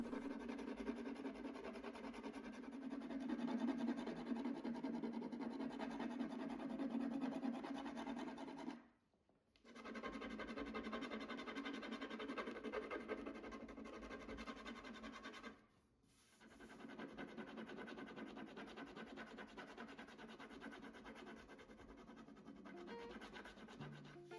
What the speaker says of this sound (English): the Lego scratching wasn't able to break through any of the top coats on the protected paint swatches